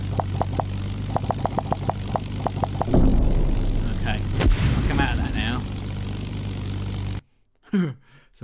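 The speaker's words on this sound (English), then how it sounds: "You can fly this little airplane." A little airplane flies in a children's game, its steady propeller-engine drone loud and continuous, with a brief shift in tone partway through before it cuts off, followed by a short burst of speech.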